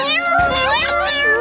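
Cartoon kittens in a PAW Patrol episode mew in a quick run of high, wavering cries, close and clear, with some speech underneath.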